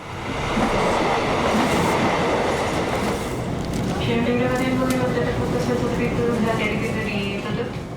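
A Wednesday night commuter train to Bogor rumbles loudly and steadily, with wheel clatter and a faint squeal while carriage noise fills the space. Distant voices murmur underneath throughout.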